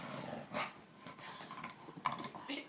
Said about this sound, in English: You sissy dog.